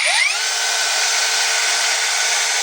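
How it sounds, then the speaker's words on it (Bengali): A cordless brushless 20V angle grinder running on a 20V 4Ah battery spins up quickly to a steady, loud, high-pitched whine that holds unbroken, with no voices. "এই মেশিনটা এখন চালাচ্ছি দেখুন"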